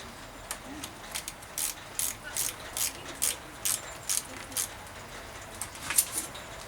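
A Park BT2 cable stretcher tool is tightened on a bicycle brake cable, producing a steady series of short ratcheting clicks at an even pace, close and moderately quiet.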